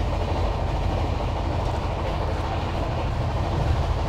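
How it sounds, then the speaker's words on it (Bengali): A Shaktipunj Express train running from Howrah to Jabalpur gives a steady, loud rumble of wheels and carriages, with continuous rattle and no pauses throughout. "ট্রেন বেশ ভালোই ছুটছে"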